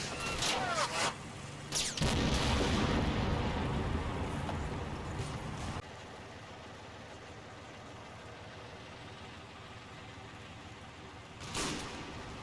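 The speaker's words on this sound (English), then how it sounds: "And McEwen comes under fire." Gunfire in the Combat Mission Fortress Italy war game, set in Tunisia, rumbles as dense bursts during the opening seconds, then settles into a quieter battle background before another short burst near the end.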